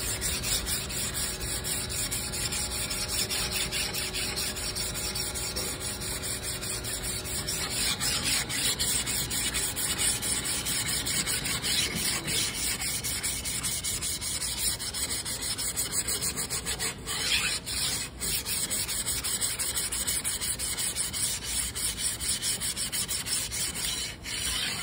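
Sandpaper rubs back and forth over a wooden flintlock rifle stock in steady, continuous strokes, close and fairly quiet, heard outdoors with a faint breeze.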